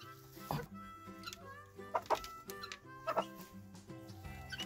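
A miniature Cochin hen clucks softly in short, scattered bursts, close by, over a low steady background hum.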